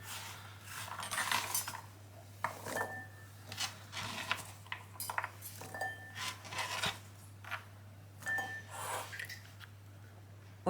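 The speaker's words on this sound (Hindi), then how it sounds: "अब बर्तन में डाल देते हैं।" Chopped carrots are tipped into a cooking pot for vegetable pulao in a home kitchen, giving a run of sharp clinks and clattering knocks over a steady electrical hum.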